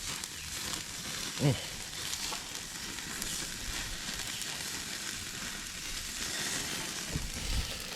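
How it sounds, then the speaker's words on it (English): A steady, broad sizzle rises from brats and hamburgers cooking on a camping grill, with a couple of brief louder clatters. "the grill master is at work here, barbecuing some brats, some hamburgers"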